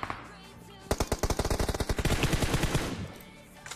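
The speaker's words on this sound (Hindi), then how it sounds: "ऐसे कैसे गोली चलाना?" Rapid automatic gunfire in the video game PUBG, a loud burst of evenly spaced shots that runs for about two seconds before tailing off, with no speech over it.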